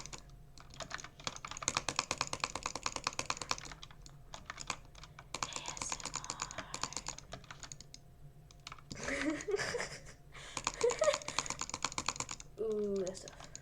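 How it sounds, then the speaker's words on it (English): Rapid keyboard typing with scattered mouse clicks in an ASMR-style close recording, coming in bursts with short pauses between them. "here's a little bit of like ASMR quick sounds and like keyboard and mouse sounds"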